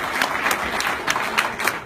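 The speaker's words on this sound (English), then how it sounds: "Another round of applause for those guys." Audience at a live Dascoin event in Zurich applauding: dense, continuous clapping from many hands filling the room, steady and fairly loud for the whole stretch.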